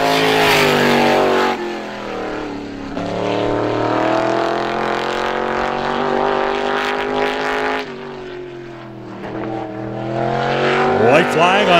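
Brad Babb's number 9 race car from Windham, Maine, takes its opening time-trial lap at Star Speedway. The engine roars loud and close, its pitch climbing and falling with each shift and corner, while a commentator talks over it throughout.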